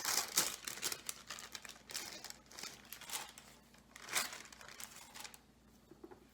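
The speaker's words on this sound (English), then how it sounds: "and remove the wax paper." Wax paper peeling off a rolled pie crust crackles and crinkles in close, uneven bursts that fade near the end, with no talk over it.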